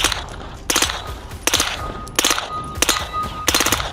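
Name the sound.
machine gun firing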